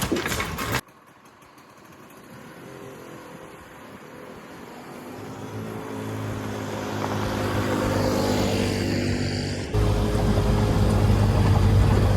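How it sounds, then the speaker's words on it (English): A 1986 Columbia utility cart with a carburetor problem runs during a ride, its small engine droning steadily and gradually growing louder, with a buzzing hum that persists throughout. "let's get it started, take you guys for a ride, show you what it does"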